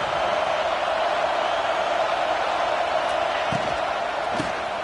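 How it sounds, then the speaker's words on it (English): Loud, continuous roar of a stadium crowd at a football game during a red zone defensive stand, a steady wall of noise that never lets up, with a couple of brief thuds near the end. "Here comes the noise. This crowd is trying to inspire this defense to make a big red zone stop."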